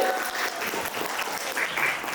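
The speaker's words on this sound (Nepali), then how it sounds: "कृपया उहाँको लागि ताली बजाइदिनु होला सबैजनाले" A hall full of people applauds at a farewell programme, loud sustained clapping from many hands in a dense, unbroken roar that holds steady from start to finish.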